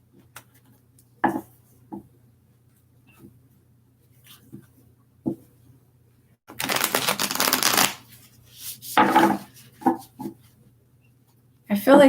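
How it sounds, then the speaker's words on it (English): Tarot cards are shuffled in several quick riffling bursts with pauses between, close up, alongside soft handling taps. "Just a couple more shuffles here."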